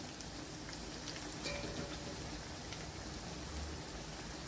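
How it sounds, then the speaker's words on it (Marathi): Toor dal tipped into hot, sizzling oil tempering for a Maharashtrian drumstick curry, giving a steady, moderately loud frying crackle and hiss that runs the whole time with no talk over it. "आता आपल्या फोडणीत चांगलं तेल सुटलेलं आहे, तर इथं मी आता ही तुरीची डाळ टाकून घेणार आहे"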